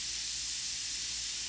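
An airbrush sprays gray paint freehand, giving a steady, even hiss of air that runs unbroken throughout.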